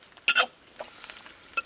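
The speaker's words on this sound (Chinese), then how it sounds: "我把这个肉煸干了" Pork sizzles and crackles in a hot wok as it is stir-fried dry for Sichuan twice-cooked pork, heard in short, close bursts of spatula scraping and spitting fat.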